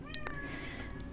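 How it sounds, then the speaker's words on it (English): A cat gives a single clear, drawn-out meow, close and fairly loud, with a brief chirp at the start and a faint tail-off, no talking over it. "Meow, meow, what?"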